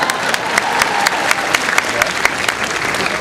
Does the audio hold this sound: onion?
no